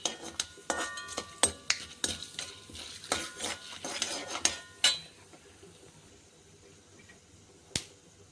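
Urad dal roasting in a pan, with scattered clicks and crackles, light stirring scrapes and taps of a utensil against the metal, fading to near quiet toward the end.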